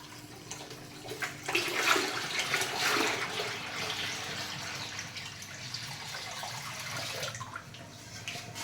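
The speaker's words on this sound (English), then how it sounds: "And now we are releasing the hot water." Hot water rushes steadily from a farmhouse kitchen tap, a hissing stream that swells early and then runs on evenly, close by with no voices.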